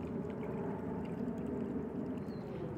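Water trickles and gurgles softly from a pipe under the ground near a playground, a faint, steady flow with no voices.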